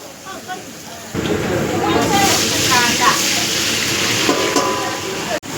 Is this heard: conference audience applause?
no